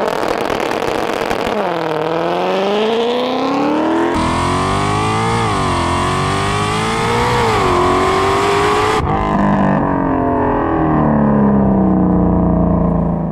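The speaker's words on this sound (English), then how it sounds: "I'm going to floor the gas. And then as soon as we're ready to go, I'm just going to let off the brake" A 2020+ Shelby GT500 tuned with a MoTeC M150 launches under launch control at full throttle, its engine roaring loud and close through rising revs with abrupt shifts between climbing sweeps.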